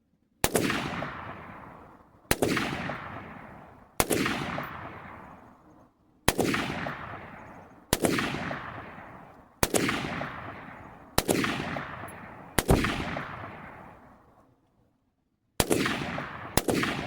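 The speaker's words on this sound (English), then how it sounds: "I'm gonna try my best to shoot accurately for once." A PSA PA-15 M16A4 clone rifle fired at a 2x6 board: nine sharp, loud single shots spaced about two seconds apart, each ringing off in a long decaying echo, with a longer pause before the last.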